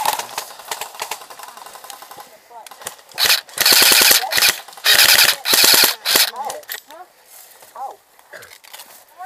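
Airsoft guns fire in a jungle game, with rapid automatic bursts crackling out in several loud volleys between quieter stretches; voices are heard faintly in between.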